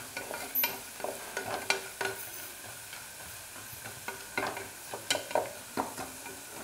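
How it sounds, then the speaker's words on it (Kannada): Fresh grated coconut frying in a pan while being stirred: a soft, continuous sizzle broken by repeated scraping strokes of the spoon, close but fairly quiet, with no talking. "ಇದು ಕೊಬ್ಬರಿ ಅಲ್ಲ, ನಾವು ಹಸಿ ತೆಂಗಿನಕಾಯಿ ಇದು. ಇದನ್ನ ಚೆನ್ನಾಗಿ ಫ್ರೈ ಮಾಡ್ಕೋಬೇಕು."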